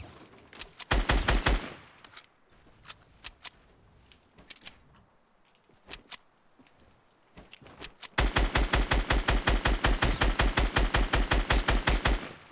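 Gunfire in a shooter video game: a rapid automatic burst, scattered single shots, then a long steady stream of evenly spaced rounds, loud and up close with no talk over them.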